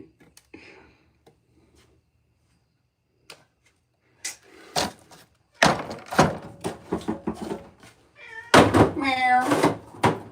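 A pet cat meows a few times in a garage workshop, close and fairly clear, alongside knocks and thuds from handling containers, with a person talking and imitating the meow.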